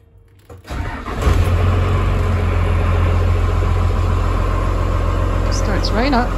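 A converted bus engine cranks briefly, catches after about a second and settles into a loud, steady idle close by, with a few thin squeaks near the end.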